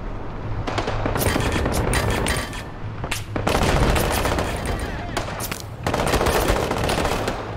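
Dense machine gun fire rattles in the Call to Arms video game, loud and sustained in long overlapping bursts with brief pauses, and battlefield shouts mixed under the shooting.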